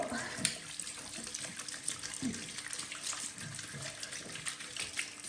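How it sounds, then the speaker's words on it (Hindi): A kitchen tap runs steadily while a child washes hands, a continuous close hiss and splash with soft voices underneath. "चलो चलो हैंड वॉश जल्दी कर लो."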